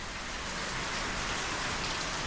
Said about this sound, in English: it's still pouring rain.